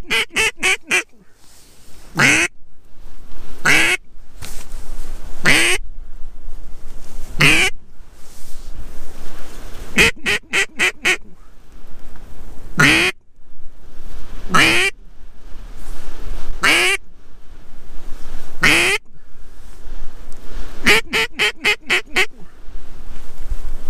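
Mallard ducks quack repeatedly at a farm pond, loud bursts of several quacks at a time spread across the clip over steady outdoor background noise.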